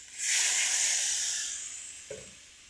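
Water poured into a hot pan of cauliflower and fried masala bursts into a loud steaming hiss that swells quickly and then slowly fades, with a small clink near the end.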